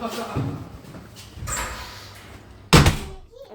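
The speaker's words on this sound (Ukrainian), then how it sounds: "закривай, дверь" A door shuts with a loud, sharp slam near the end, preceded by softer household shuffling and faint voices in a home on a snowy winter day.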